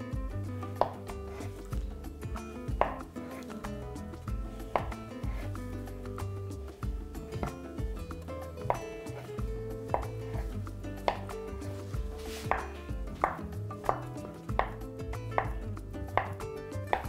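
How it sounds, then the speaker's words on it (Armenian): A knife cuts boiled potatoes into cubes on a board, repeated sharp taps at an uneven pace that come faster toward the end, close and fairly quiet over a low background hum. "նախապես խաշել եմ կարտոֆիլ, գազար, կտրատում ենք խորանարդիկների։"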